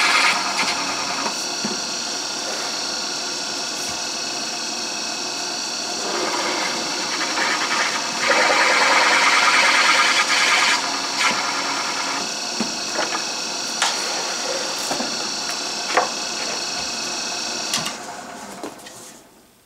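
A countersink bit cuts holes in steel, giving a steady whining, grinding drone with brief scraping bursts near the middle and a few sharp ticks, loud and close with no talk.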